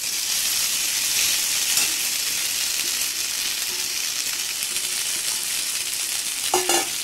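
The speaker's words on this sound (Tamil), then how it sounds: "இப்போ நம்ம சேமியாவை கொட்டிக்கலாம்" Ragi vermicelli fries in a pan with a continuous bright sizzle and crackle, and a few light stirring clinks near the end.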